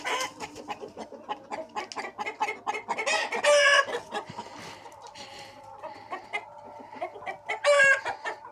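Chickens on a farm clucking steadily and close, with a rooster crowing loudly twice amid the busy flock, no talk over it.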